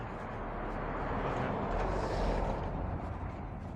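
A second truck passes on the roadside near Inverarnan in the Scottish Highlands, its wide rumbling road noise swelling toward the middle and easing slightly as it goes by.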